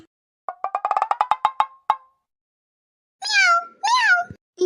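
Cartoon cat meowing: a quick run of short bright meows, then two longer drawn-out meows after a pause, loud and close with no talk over them.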